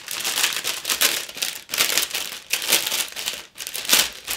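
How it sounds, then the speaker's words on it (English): Plastic bags from a 1/48 scale Kinetic Su-33 plastic model kit crinkle and rustle close up in repeated bursts with short pauses, with no talk. "Always sign of a good kit when you've got a pile of plastic bags."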